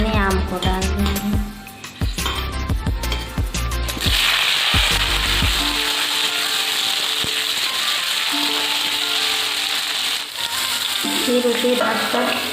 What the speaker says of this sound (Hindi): तेल लाल होने के बाद हम मेथी और कढ़ाई डालेंगे। जब दोनों लाल हो जाए तो उसमें आम को डाल देंगे।